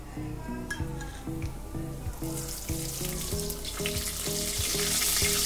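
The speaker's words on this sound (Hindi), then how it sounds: "सबसे पहले हम 2 टेबलस्पून तेल डालेंगे। इसके अंदर हम 1 टीस्पून जीरा डालेंगे।" Cumin seeds sizzle in hot oil for a cooking preparation, a steady close frying crackle that grows brighter and denser toward the end, while a rhythmic repeating tonal pattern of music plays underneath throughout.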